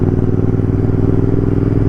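A motorbike ridden carelessly on the road passes close by, a loud, steady rumbling engine throb over a short moment.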